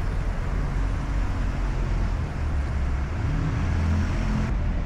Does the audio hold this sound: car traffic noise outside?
yes